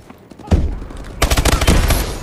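Call of Duty gunfire: a single loud shot followed after a pause by a rapid automatic burst of shots, close and dominant, with no talk.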